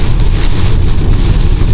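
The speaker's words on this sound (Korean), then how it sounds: "여러분 우박이 그치고 나서는 빗살이 굉장히 두껍고" Heavy rain mixed with hail drums steadily on a Renault Grand Koleos 2.0 gasoline AWD while it drives, making a dense, continuous roar with no talk.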